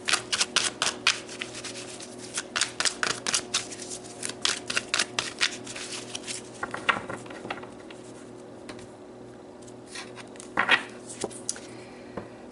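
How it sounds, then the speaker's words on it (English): A tarot deck is shuffled and cards are drawn, with quick crisp riffling flicks in bursts early on, then slower, sparser card snaps and soft slides, close and fairly quiet. "let's pull some more cards"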